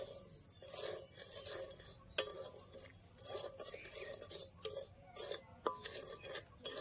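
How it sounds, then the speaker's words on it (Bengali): Semolina dry-roasting in a pan and being stirred, making soft, repeated scraping and rasping strokes at a low level, with no talking. "এই সুজিটা এখন সুন্দর করে ভেজে নেব।"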